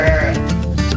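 Sheep on a farm bleat during morning chores near an apple pasture and creek, a wavering, nasal call that repeats in quick pulses, close and fairly loud over a low rumble.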